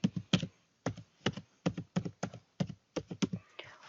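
Web address being typed on a computer keyboard: quick irregular bursts of crisp key taps in short clusters with brief pauses, close and fairly quiet in a still room.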